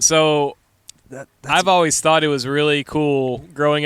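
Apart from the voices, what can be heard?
No everyday noise stands out behind the speech.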